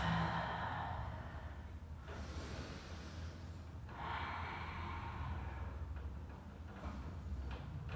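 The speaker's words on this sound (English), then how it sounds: "Take another 2 more breaths." Slow, deep breaths during a family yoga session: two long airy exhalations a few seconds apart, close and fairly soft, with faint room noise between them and no talking.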